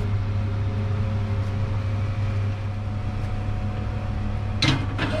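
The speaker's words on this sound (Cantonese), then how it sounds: "想啲奶快啲冷卻呢，我哋就加多把風扇去吹大概係15至到20分鐘呢" An electric fan blows air to cool a pot of boiled milk, a steady whirring hum with a constant low drone, briefly joined near the end by a short clatter.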